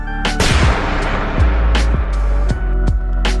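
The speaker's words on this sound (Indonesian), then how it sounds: "suara tembakan terdengar dan Jungwoo pun tewas" Several loud, sharp gunshots from a film crack out at irregular intervals, each with a booming low thud and a short echoing tail.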